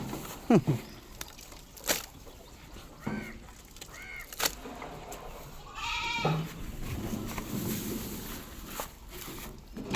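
A goat bleats several times while eating its afternoon snack, the calls close and clear with short wavering cries spaced between soft rustling and chewing noises.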